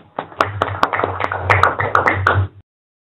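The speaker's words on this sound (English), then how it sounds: "Let's give Julie a round of applause." A handful of people clap after a master's presentation, sparse, distinct claps over about two and a half seconds, close and dry, stopping abruptly into silence.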